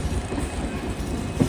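A passenger train hauled by a WDP4 diesel locomotive pulls out of Yesvantpur, Bangalore, with a steady low rumble and rhythmic wheel clatter, ending in a sharp clank.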